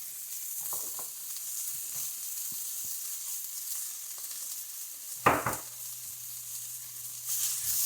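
Peppers and pea pods fry in a pan, giving a faint, steady sizzle with a few soft stirring clatters and one sharper clunk of food dropping in near the end.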